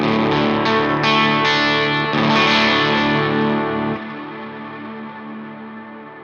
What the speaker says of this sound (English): Big, lush, saturated reverb.